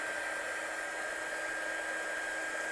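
A hair dryer blows steadily on a handmade Christmas card, a constant close whooshing hum with no breaks.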